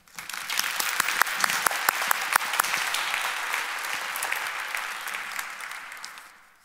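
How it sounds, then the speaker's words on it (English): Conference audience at a business archives gathering applauds the hosts: a few sharp early claps swell into dense, loud applause that holds for several seconds, then tapers off near the end. "I think they have deserved an applause at this point."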